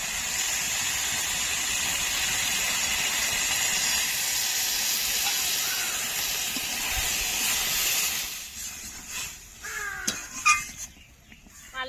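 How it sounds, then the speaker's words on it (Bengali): Spice-rinse water poured into a hot pan of frying ginger, garlic, cumin and chilli paste for Bengali chicken masala, raising a loud, continuous steamy sizzle that fades after about eight seconds into softer bubbling and scattered stirring clinks. "এবার মশলা ধোয়া জল দিয়ে দেব।"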